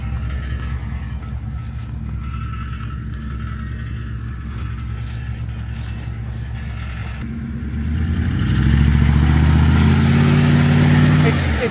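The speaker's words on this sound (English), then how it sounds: "the truck keeps spinning out because there's a lot of weight on there, and we're going uphill" A heavily loaded truck climbing uphill, its engine roaring louder and its wheels spinning out in the second half, a continuous rising mechanical drone near and loud on a farm during haymaking.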